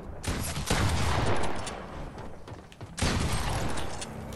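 Gunshots in a Fortnite 1v1 Nuketown match, two loud, close volleys of rapid fire with a sharp crack at the start of each, the second burst following a brief lull.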